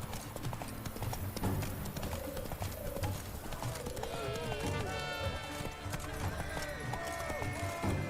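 Horse hooves clip-clopping at a steady walking rhythm in The Witcher Wild Hunt, with birds chirping and a voice over the hoofbeats.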